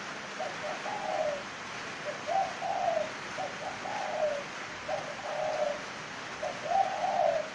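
A spotted dove coos in a repeated series of soft, rounded calls against a quiet background hiss, each phrase spaced about a second apart.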